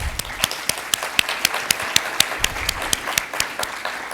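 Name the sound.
audience applause for competition finalists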